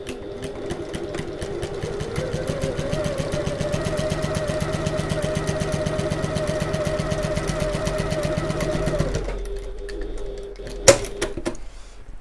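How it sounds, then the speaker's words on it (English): A sewing machine runs steadily at a regular stitch length along a line on a two-tone fabric strap, its close, rapid whirring hum holding for about nine seconds before stopping, followed by a short sharp click. "all we're going to do now is sew along this line using our regular stitch length"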